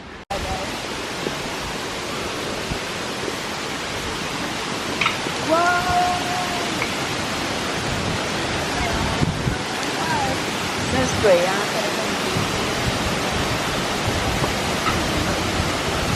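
A waterfall in Taiwan roars as a steady, dense broadband wash of falling water that stays constant throughout, with faint voices briefly mixed into the rush.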